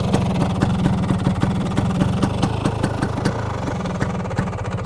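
An Excel 200 motorcycle engine fitted with an aftermarket cylinder block idles steadily and close by, a continuous low chugging throb with regular firing pulses and no talking.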